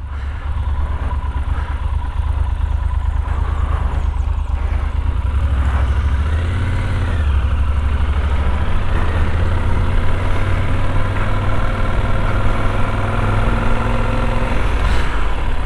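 A Yamaha Super Tenere 1200 motorcycle engine idles with a loud, constant low rumble, its pitch rising briefly midway before settling back to a steady throb.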